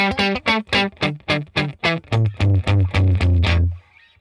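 Distorted crunchy electric guitar through the Gemstone Crunch amp preset in Logic Pro plays a run of sharp picked notes, then chugging palm-muted chords that ring out and stop, with no voices.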